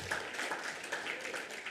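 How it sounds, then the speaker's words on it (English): Brief burst of audience applause for panelists at an ocean plastics conference, dense and even clapping from a room full of people, moderately loud and heard alone. "Another round of applause for our panelists."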